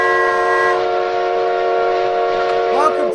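A loud, steady train horn sounds as a stream subscriber alert, its sustained tones holding for about three seconds before bending and trailing off at the end, with no talking over it.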